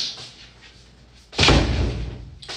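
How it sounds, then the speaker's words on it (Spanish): A door being pushed shut indoors, giving one fairly loud thump partway through, followed by a brief rattle and settling noise, with a quieter room before it. "Voy a cerrar la puerta porque me escucho a mí misma."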